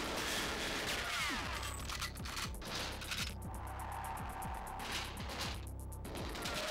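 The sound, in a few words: gunfire in a video game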